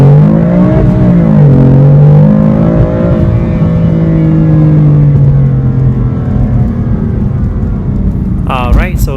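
A 2015 BMW M3 accelerating hard from a standstill on a 0 to 60 run, its engine note rising loud and close as it climbs through the revs, with a brief gear change and a short burst of sound near the end.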